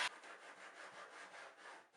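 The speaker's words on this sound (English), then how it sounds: "then what we'll do is we will finish up with a block sander" A block sander rubs over a surfboard ding repair in steady back-and-forth strokes, a soft, fairly faint scraping rasp with a regular rhythm and no voices.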